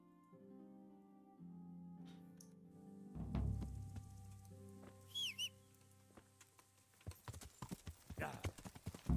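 Horse hooves clip-clop in the video game Kingdom Come: Deliverance, a rhythmic run of hoof clops building in the second half after sustained game music tones and a low thump.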